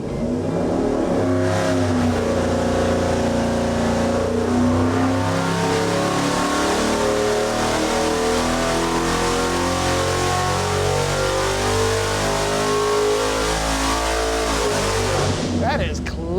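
A 5.3L LS engine on a dyno runs a pull toward 6,500 rpm, its note rising and holding as a loud, sustained, harmonically rich roar before cutting off sharply near the end.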